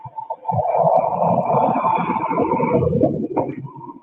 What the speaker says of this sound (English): Comes a car.